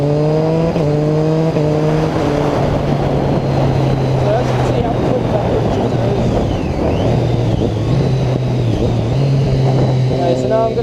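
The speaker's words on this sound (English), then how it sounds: "I'm just going to do a clutch up in second gear and then quick shift into third, and then maybe go into fourth" A 2008–2011 Triumph Street Triple engine revs hard under acceleration with clear rising pitch steps at gear shifts, loud and close, with wind noise over it.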